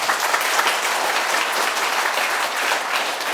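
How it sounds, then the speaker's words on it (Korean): Audience applause at a Korean party members' education meeting, dense steady clapping from a large crowd filling the hall without pause, loud and close, with no talking over it. "잘한다고 생각하는 분만 박수 보내주세요"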